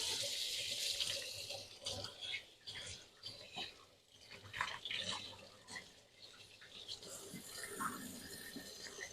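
A kitchen sink tap runs in uneven bursts while hands are washed with soap after cracking eggs, with splashing and sloshing water up close and a voice talking over it.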